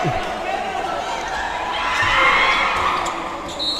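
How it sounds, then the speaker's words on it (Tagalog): Crowd shouting and cheering fills the City Coliseum during a preliminary basketball game, a steady dense roar that swells near the middle, with a commentator talking over it. "Sigawan po dito sa loob ng City Coliseum for our preliminary game or Pasarel"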